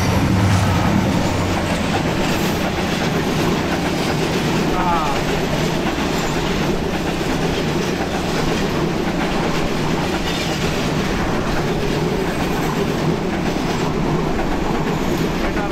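A night train passing Chatmohar railway station, a loud, continuous rumble of wagons and rhythmic wheel clatter close by, with someone talking faintly underneath.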